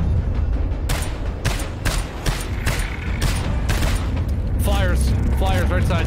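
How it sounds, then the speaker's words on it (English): Mortar fire in the co-op shooter GTFO: a rapid series of heavy booming impacts, roughly two per second, pounds loudly over a dense rumble while voices talk over the barrage. "Mortar fire."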